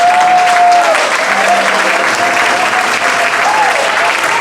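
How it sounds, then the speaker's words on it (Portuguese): A church congregation applauding loudly and steadily, a thick wall of clapping close and sustained across the whole stretch, with faint voices and a sustained tone mixed in underneath. "dê uma forte salva de palmas ao Rei dos Reis"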